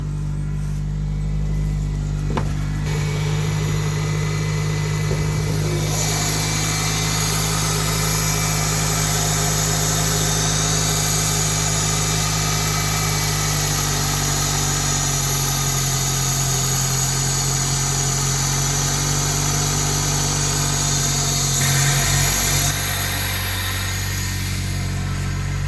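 A 20-year-old car engine idles steadily for the whole stretch, a constant close rumble with a low hum and no voices over it.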